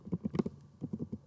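Quick bursts of clicking keystrokes on a computer keyboard, two short clusters of taps close and fairly quiet, with no talking.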